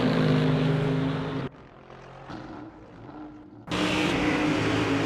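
A GT3 race car engine in a racing video game roars loudly, drops away to a quieter rumble for a couple of seconds, then surges back to full volume.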